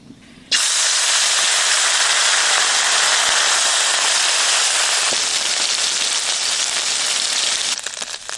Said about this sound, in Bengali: কড়াই গরম হয়ে গেছে সরষের তেল দিয়ে দিচ্ছি